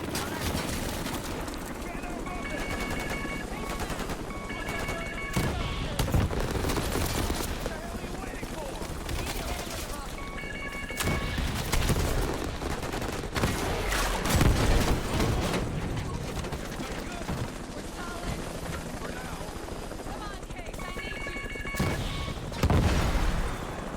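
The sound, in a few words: gunfire and explosions in video game Black Ops 6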